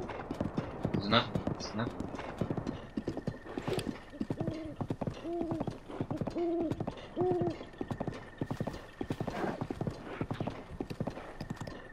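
Horse hooves clip-clop steadily in Zelda: Breath of the Wild, a brisk even rhythm running throughout, with a few neighing snorts in the middle and someone talking over it.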